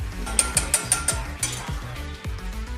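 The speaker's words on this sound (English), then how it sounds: "Gonna whisk it so I get all of the grainy parts out." A whisk beats protein powder in a bowl, giving a fast run of rhythmic scraping and clinking strokes, close and steady with no talking.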